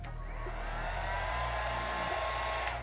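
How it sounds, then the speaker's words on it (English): A Lena AirPlusStyler hair dryer blows steadily up close, a constant whooshing hum with a slight shift in its motor tone partway through. "This is just the blow dryer."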